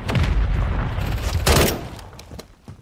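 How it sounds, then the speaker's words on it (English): Game explosions and gunfire in a Call of Duty: Modern Warfare III multiplayer match, including mortar strikes: dense, loud blasts and crackling shots for about two seconds, with a sharp burst near the middle, then fading to scattered, fainter shots. "Let's mortar support there."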